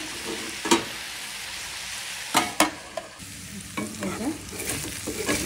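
Carrot bhaji with papaya and potato fries in a pan with a constant crackling sizzle, and a spatula clanks and scrapes against the pan several times.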